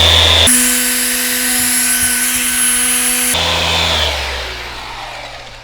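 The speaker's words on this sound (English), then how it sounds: "That's a good polisher." A power polisher runs on the paint of a Mercedes Brabus AMG G63 during paint correction, a loud steady whine that cuts off abruptly, followed by a lower motor hum winding down.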